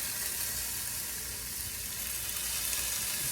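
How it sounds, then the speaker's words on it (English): Garlic sizzles in a pan with sweated onion and pepper, a loud, even, close hiss of frying that runs unbroken throughout with no talk. "Actually, adding a lot of garlic."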